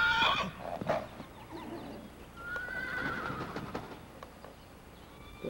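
An imported Friesian gelding, a champion driving horse, gives a loud, close whinny at the start, followed by quieter snorts, hoof clops and faint birdsong in the background.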